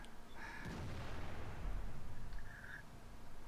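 Tank cannon fire in the World of Tanks video game, a muffled booming shot with a low rumble that rolls on and swells midway, over steady background noise.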